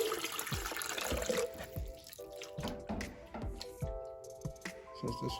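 Filtered water splashes and trickles into a container to rinse out apple scraps, with irregular close splashes and drips at moderate, fairly quiet volume.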